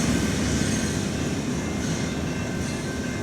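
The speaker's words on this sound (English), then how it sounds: "a dry, dusty tailwind carried this eastbound CN stack train into town" An eastbound CN double-stack freight train rolls past on CP's Thompson subdivision on a dry, dusty day, a loud, continuous rumble with steady wheel roar and faint metallic squeal.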